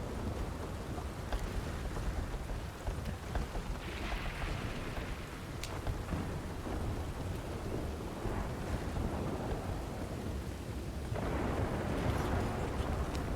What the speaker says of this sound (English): what a storm